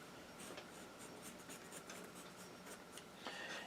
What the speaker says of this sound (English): I'm going to go ahead and draw my first heart onto the dress